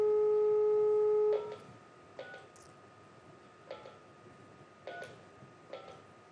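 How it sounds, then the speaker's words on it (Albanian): Telephone line tones during a live TV call-in broadcast: a steady dial tone cuts off, then four evenly spaced ringback beeps follow, clear and alone without talking. "jep një sinjalin telefon"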